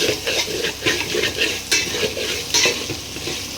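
Sliced onions fry in a pan with bay leaf and cloves, giving a loud close sizzle with rhythmic scraping stirs and occasional utensil clinks against the pan, with no talking.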